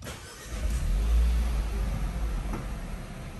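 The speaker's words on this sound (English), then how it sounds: "And then just simply hit the engine start stop button straight away." A 2019 Renault Captur starts from its push button. The engine catches with a low rumble that swells over the first second, then settles into a steady idle close to the listener. Nobody speaks.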